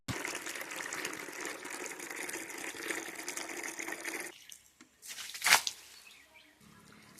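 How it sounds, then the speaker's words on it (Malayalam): Water gushes steadily into a container for several seconds, then stops, followed by a few quiet splashes and a brief sharp clatter. "ഇനി നമുക്ക് ബക്കറ്റിലേക്ക് നമ്മൾ വെള്ളം ഒന്ന് ഒഴിച്ചെടുക്കാം"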